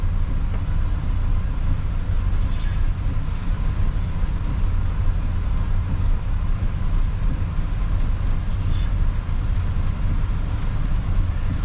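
An Isuzu NPR diesel truck creeps slowly downhill through snow with the driver off the gas, giving a steady low engine and road rumble that stays even and unbroken from start to finish.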